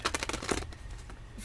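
A deck of cards is shuffled close up in a quick riffle of rapid crisp flutters over about half a second, then a softer settling rustle trails off.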